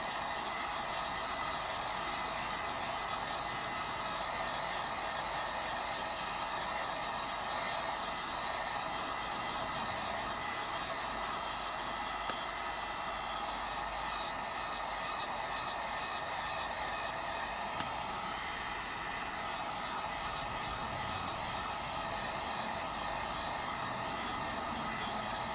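Steady hot-air blowing aimed at an Alcatel One Touch phone to heat its board, a constant broadband hiss like a hair dryer running without a break for about half a minute, close and fairly quiet, with no speech.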